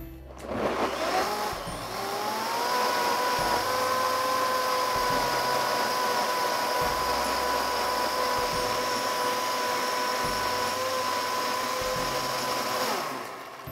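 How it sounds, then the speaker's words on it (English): A kitchen blender runs continuously on chipotle cream sauce ingredients, a loud, steady whirring motor that starts up, holds a constant pitch for several seconds and then stops. "Let's blend again."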